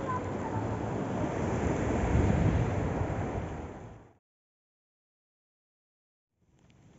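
Ocean surf at Garopaba beach in Santa Catarina, Brazil, washing in as a loud, steady roar of breaking water and wind noise for about four seconds, then cutting to silence before resuming faintly.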